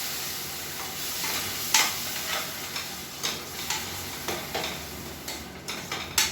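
Ground tomato paste sizzles and fries in oil in a pan while cooking a paneer kurma, a steady soft crackle broken by several sharper stirring scrapes and taps, with no talking.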